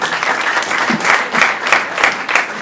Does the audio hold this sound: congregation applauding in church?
yes